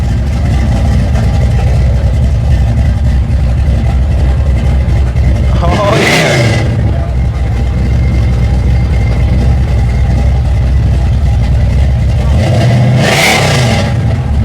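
A rebuilt 396 V8 in a 1967 Chevelle SS rumbles at a loud, steady idle and is blipped twice into short revs, with a brief voice speaking over it.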